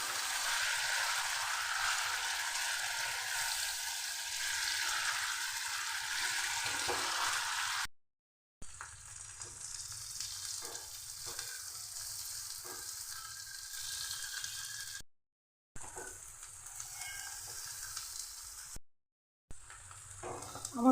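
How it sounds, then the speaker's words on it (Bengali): Pieces of taro (arum) fry in hot oil with a steady hiss and crackle, close and even, briefly cutting out a few times. Faint clinks of stirring sound now and then. "এবার তেলে ভেজে কচুর লালাটাকে আমি শুকিয়ে নেব। তেলে ভেজে নিতে হবে অবশ্যই।"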